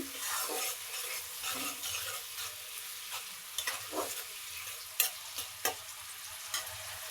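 Spices including ground cumin and garlic paste being stirred in a frying pan, soft continuous sizzling with repeated scraping strokes of a spoon, close and fairly quiet, no talking.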